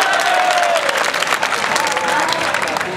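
Audience clapping at a kavi sammelan poetry gathering at the Kalyanji fair in Gangapur City, dense sustained applause from a crowd with a faint voice carrying over it throughout.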